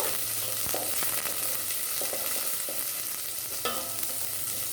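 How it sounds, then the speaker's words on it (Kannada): Garlic cloves and curry leaves fry in a little oil for ridge gourd sambar, giving a steady close sizzle with a few sharp stirring clinks of a spoon against the pan. "ಬೆಳ್ಳುಳ್ಳಿ ಒಂದು 5ರಿಂದ 6 ಎಸಳು, ಕರಿಬೇವಿನ ಎಲೆ ಸ್ವಲ್ಪ. ಇದನ್ನ ಒಂದು ಸ್ವಲ್ಪ ಎಣ್ಣೆಯಲ್ಲಿ ಹುರ್ಕೋಬೇಕು."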